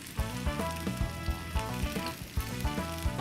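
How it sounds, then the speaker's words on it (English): Sizzling frying in a pan as egg is stirred quickly into a cabbage ball stuffing, a steady crackle with regular percussive utensil knocks against the pan about twice a second. "put the egg in there and then stir it in really fast and hope it doesn't scramble"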